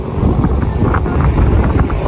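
Steady wind buffeting a microphone, a constant low rumble with gusty swells throughout and no voices.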